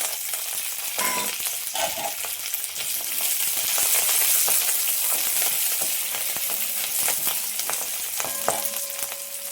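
Curry leaves crackle and sizzle steadily in hot oil alongside urad dal, cooked for an Iyengar-style brinjal gojju, a continuous close frying hiss with a few sharper pops and clinks, no voices.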